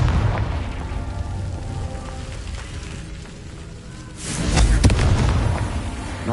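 In Hogwarts Legacy, a Confringo spell lands with a sudden booming burst that crackles and rumbles for about a second amid steady ambient game noise.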